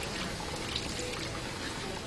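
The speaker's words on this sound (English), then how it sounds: "Rinse hands under running water" Tap water runs steadily while hands are rinsed under it during a hand-hygiene routine, a continuous close hiss and trickle with no talk.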